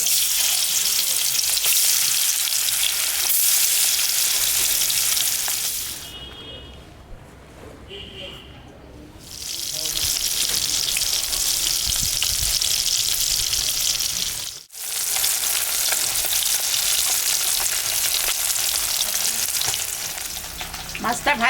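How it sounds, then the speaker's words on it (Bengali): Pangas fish, salted and coated with turmeric, fries in hot mustard oil in a wok, giving a loud, dense, continuous sizzle up close that drops away briefly partway through before surging back. "আমি এখন মাছটা ভাজবো।"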